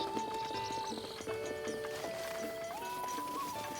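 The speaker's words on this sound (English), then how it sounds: "We could try and get horses. There's horses out back there." Video game audio from The Legend of Zelda: Breath of the Wild: horse hooves clip-clopping and a faint whinny beneath steady background music tones.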